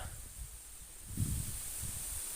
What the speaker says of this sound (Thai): ลมจากทางเหนือพัดลงสู่ทางใต้เนาะ ลมแรงจัดครับ